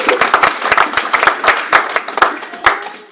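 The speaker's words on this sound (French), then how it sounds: "Ajoute encore une offrande d'acclamation." A church congregation claps in a lively, uneven burst of individual hand claps layered over a broader wash of applause and cheering, close and loud.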